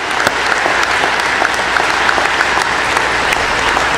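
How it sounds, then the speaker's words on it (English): Graduation commencement audience applauding a graduate, a steady dense clapping that fills the room and holds even for about four seconds, loud and continuous with no talking over it. "Give Aziz a round of applause for graduating today"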